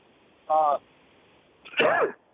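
A short voiced burst followed by a sharp, noisy sneeze up close, with quiet room tone in between.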